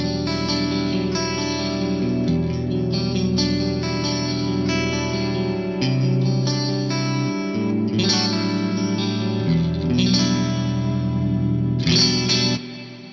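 Clean electric guitar through a Nano Cortex Mind Hall reverb at stock settings, lush sustained chords and picked notes blooming into a wide, continuous ambient wash with long decaying tails.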